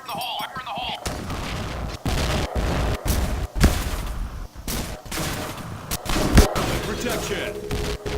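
Grenade blasts and rapid gunfire in the Point Blank online shooter, a dense, loud barrage of repeated sharp shots and booms running nearly continuously, with game voice callouts mixed in.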